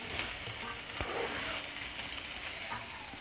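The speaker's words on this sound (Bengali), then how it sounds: "এবার ভালো করে আরো একটু ভেজে নিতে হবে বাঁধাকপিটাও নরম হওয়া পর্যন্ত।" Shredded cabbage frying in a pan for vegetable egg chowmein, a steady soft sizzle with faint stirring clatter, moderately quiet and without talk.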